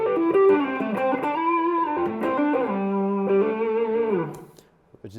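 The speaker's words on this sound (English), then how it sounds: "my final stage of gain is Maxon OD808 Overdrive" Electric guitar played through a Maxon OD808 Overdrive pedal for lead tones, gritty sustained distorted notes sliding between pitches, loud and close, then fading out near the end.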